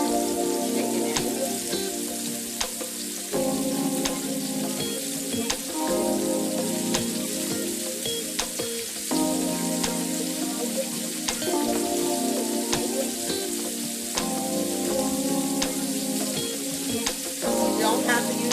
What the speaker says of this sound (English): you're going to slowly drop chicken in